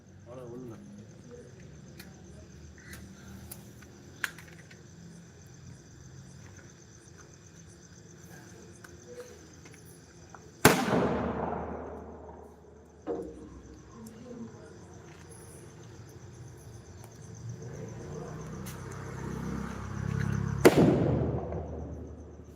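Two sharp firecracker bangs several seconds apart, loud against a quiet background with chirping insects and faint voices nearby.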